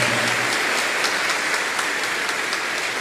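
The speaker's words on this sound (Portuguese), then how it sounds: "dá uma salva de palmas para a sua cidade, para a sua igreja, para a sua comunidade" Applause from a church congregation at a Sunday Mass homily, a steady dense wash of clapping that fills the space without pause and stays fairly loud throughout.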